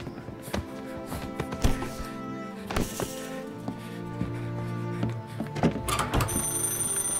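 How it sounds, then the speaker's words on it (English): A telephone rings inside the Mafia: Definitive Edition video game, a repeated bell tone heard over a sustained musical drone, with several thuds and clattering impacts around it. "Why would a phone be ringing?"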